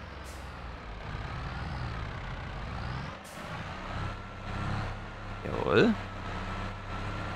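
A farm tractor rumbles close by, its steady low drone running throughout as it backs into position, with brief air bursts and a short voice exchange over the engine.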